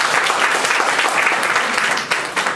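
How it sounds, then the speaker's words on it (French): Students in a lecture hall at a business school's back-to-school seminar burst into dense, steady applause, loud and sustained throughout, easing slightly near the end, with no talking over it. "Donc ça, quand même, ça mérite au moins des applaudissements"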